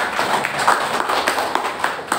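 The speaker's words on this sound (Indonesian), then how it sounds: "Tepuk tangan Bapak Ibu." An audience of men and women at a community gathering in Kabupaten 50 Kota clapping together in a steady, moderately loud patter with faint voices mixed into the crowd noise.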